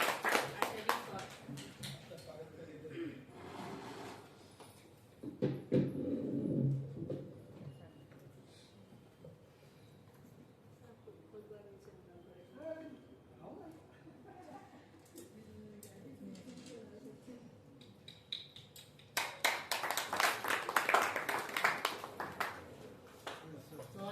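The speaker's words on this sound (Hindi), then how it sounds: "कृपया तालियों से आशा जी का स्वागत किया जाए।" Audience applause welcomes a poet at a Hindi poetry recitation at the Central Hindi Institute in Hyderabad. Bursts of clapping come at the start and again near the end, with a speaking voice and quieter room noise in between.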